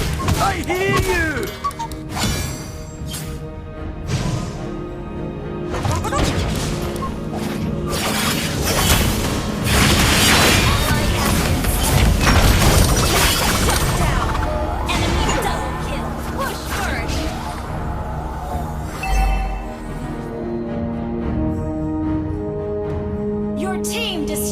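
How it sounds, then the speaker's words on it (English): In a Smite match, a turret is destroyed amid dense, loud crashes, shattering impacts and booming blasts that build and swell through a chaotic stretch of battle effects. "Your team destroyed a turret."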